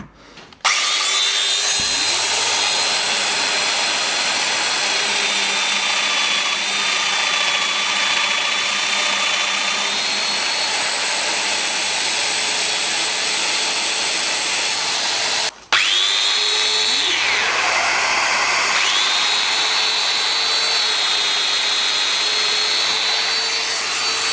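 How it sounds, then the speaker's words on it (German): A power drill runs steadily, whining as it bores into wood, with a brief pause midway before drilling resumes at the same loud, continuous pitch. "Und dann werde ich jetzt versuchen, das hier so zu bohren."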